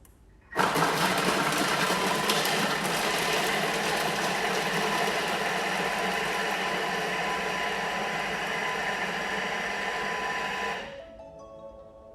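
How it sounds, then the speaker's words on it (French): A food processor finely mixes carrots at speed 5, letting out a loud, steady motorized whir that starts abruptly, runs for about ten seconds and then cuts off. "On va mixer ça. Allez, pour que ça soit bien fin. 10 secondes. À la vitesse 5."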